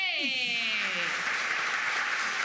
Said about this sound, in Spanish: Dijiste aplausos y ya todo el mundo ahí en el estudio